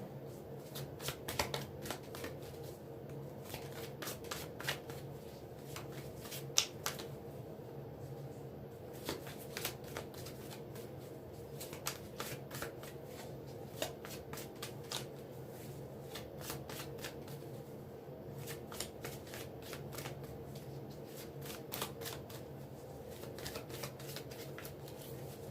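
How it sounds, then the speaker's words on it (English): A deck of tarot cards is shuffled steadily by hand, giving a continuous stream of soft riffling and slapping card sounds with small sharp clicks, fairly quiet and close, with no talking. "this did flip over whenever I was shuffling"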